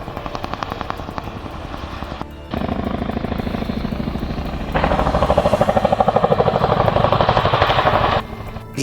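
A CH-47 Chinook heavy-lift tandem-rotor helicopter with a steady, loud, rapid rotor chop and a turbine whine that swells louder midway.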